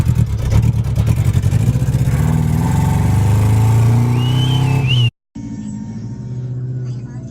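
Nissan S13 fitted with a 350Z engine accelerating, a loud, steady mid-pitched engine drone that holds and rises for about five seconds before cutting off, followed by quieter background with a faint voice.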